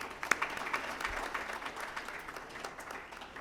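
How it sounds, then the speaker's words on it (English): Applause rises from the audience for a CEO roundtable panel at a panel discussion, a fairly quiet, distant patter of clapping that carries on steadily throughout. "Can we please give our CEO Roundtable panel a very big round of applause?"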